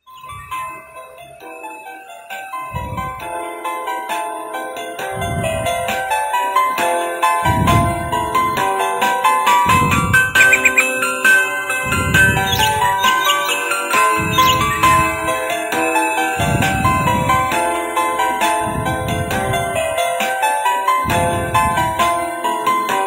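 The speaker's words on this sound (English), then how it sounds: "let's do that Patchel Bell Cannon song. It's coming up in a few seconds." A Kstar ANJANK AC003 dual alarm clock plays Pachelbel's Canon as a bright, tinkling electronic melody, steady and fairly loud, with the repeating bass notes sounding at regular intervals and no talking over it.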